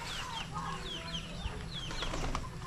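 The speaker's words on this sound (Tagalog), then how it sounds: "Ito pala yung mga manok." Chickens cluck and chirp in a busy farmyard, several birds calling over one another amid steady background noise.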